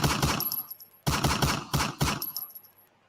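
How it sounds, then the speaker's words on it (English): Recorded gunshot bursts from a game, in four loud, sharp, rapid volleys of several shots each, each fading briefly before the next, with no talk over them. "I have the clip of that gunshot."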